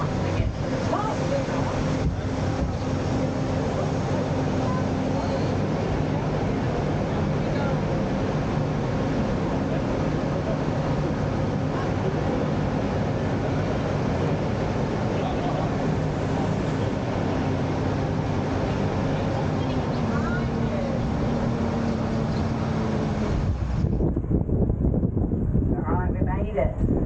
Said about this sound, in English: we have a pretty full bus, so the engine works very hard to get us up this hill